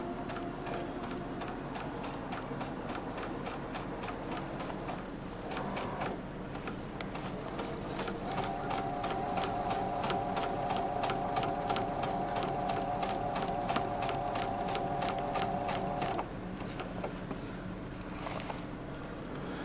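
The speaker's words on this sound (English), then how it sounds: "Just straight stitch sewing, just to get the pieces together." A sewing machine runs straight stitches to join fabric pieces, a fast steady mechanical whir with rapid needle ticking, nearby, pausing briefly and restarting, with no talk.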